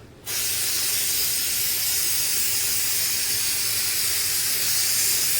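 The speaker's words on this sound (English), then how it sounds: "I'm going to take the spray adhesive and I'm going to spray the cross" Spray adhesive is applied to a wooden cross as a steady, close, continuous hiss that begins abruptly and holds even and unbroken to the end, with no voices.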